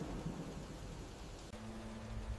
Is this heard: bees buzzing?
no